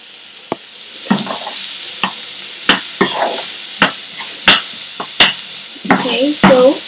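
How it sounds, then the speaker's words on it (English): Prawns and curry leaves are stirred and fried in a pan, with sharp spoon knocks against the pan at a steady rhythm over a bubbling sizzle. The sound is close and loud, with no speech. "Okay, give all this a mix."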